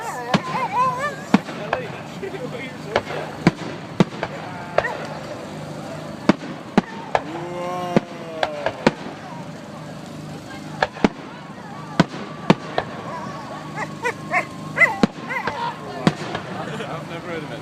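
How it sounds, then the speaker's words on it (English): Fireworks pop and crack in repeated sharp bursts on bonfire night, some whistling as they rise, heard at a distance while people chat nearby throughout. "I thought she liked fireworks."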